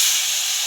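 A splash of water hits a hot pan of frying morola fish curry, giving a short, loud burst of steamy hiss that fades slightly within a second.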